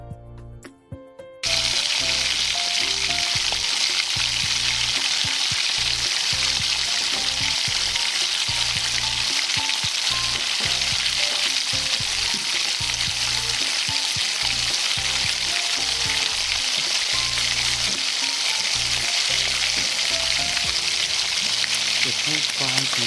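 French fries and tater tots frying in hot oil, a loud continuous bubbling sizzle that starts abruptly after a brief quiet moment and holds steady, with a low hum and clatter underneath.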